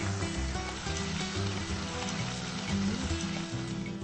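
Corn cakes dropped into a hot pan of oil sizzle in a steady, crackling hiss, with occasional louder pops and no voices.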